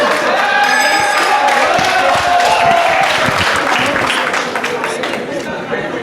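Applause and crowd noise from a residents' assembly audience fill the room, a dense steady wash of clapping with some voices mixed in, gradually easing toward the end.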